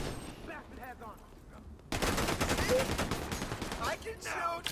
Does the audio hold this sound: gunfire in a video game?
yes